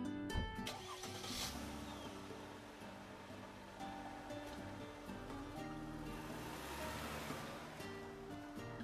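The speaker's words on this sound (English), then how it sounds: "our car began climbing the mountain path" A car engine in the visual novel game SeaBed drones steadily as the vehicle climbs a mountain path, a loud, continuous broadband rumble with no talking.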